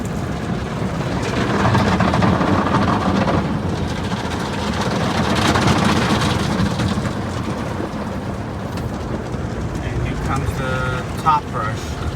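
Machinery in an automatic car wash tunnel, a Sonny's tunnel at a Quick Quack Car Wash in Tomball, Texas: a steady spraying, rushing wash with whirring brushes, broad and continuous, louder in surges, with a person speaking over it.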